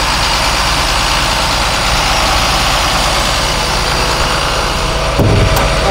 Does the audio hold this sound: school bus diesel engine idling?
yes